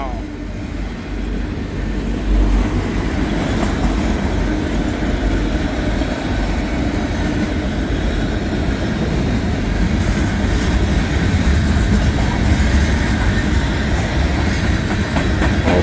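A northbound freight train rolls past in a loud, continuous rumble with rhythmic wheel clatter on the rails, close by and sustained throughout.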